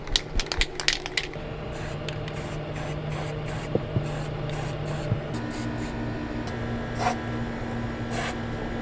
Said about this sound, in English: spray a bunch of primer on the metal end of it to prevent rust.